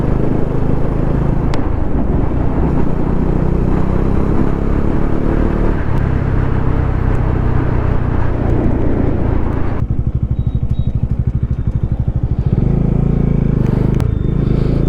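Bajaj Dominar 400 BS6 motorcycle engine running close and loud for the whole stretch, a steady deep rumble with rising and falling revs and a brief rougher pulsing spell before settling again.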